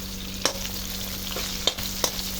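Onions sizzle in a hot pan while mud crab is being cooked, a steady faint frying hiss broken by a few sharp stirring clicks and pops.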